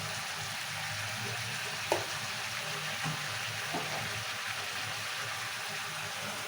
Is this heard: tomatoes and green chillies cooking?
yes